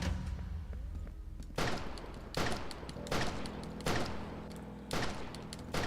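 Loud DMR rifle shots from the video game Outbreak: The New Nightmare, six sharp blasts at a steady, slightly uneven rhythm over a low droning game background, with no talk.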